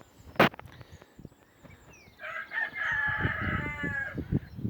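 Backyard hens on an allotment grazing on grass give a few soft clucks, and then a rooster-like call rises through the middle of the clip, at moderate distance, with light rustling and footsteps beneath.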